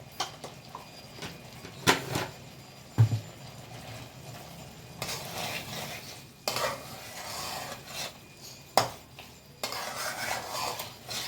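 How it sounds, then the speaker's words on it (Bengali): A spatula stirs okra in a mustard paste in a pan on medium heat, with scraping sweeps and sharp clacks against the metal over a faint sizzle, coming in uneven bursts. "একটু ভালো করে নাড়াবো"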